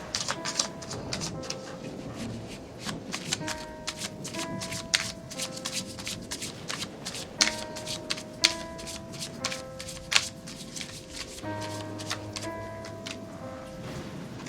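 A deck of Moonology Oracle cards is shuffled by hand in a quiet room, giving rapid, repeated riffling clicks and soft slaps over several seconds, close and clear with faint sustained tones behind.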